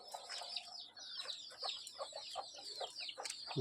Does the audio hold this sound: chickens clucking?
yes